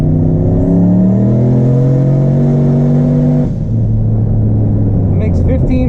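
A turbocharged street car engine making 15 psi of boost revs hard and loud up close, pitch climbing steadily before dropping on a shift and pulling again. A voice speaks briefly near the end.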